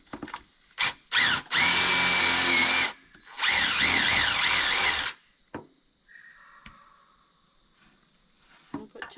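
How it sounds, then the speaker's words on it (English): A power drill whines loudly in two long bursts, boring holes into wood cornhole boards, with short trigger blips before and faint clicks and handling noises afterward. "And we'll start drilling those."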